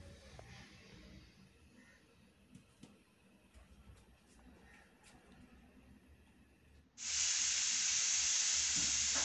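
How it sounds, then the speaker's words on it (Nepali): A pressure cooker on the stove, holding mutton curry, suddenly lets out one loud, steady hissing whistle that starts after quiet kitchen background and carries on to the end. "अब चाहिँ हाम्रो एक सिटी लागिसकेको छ"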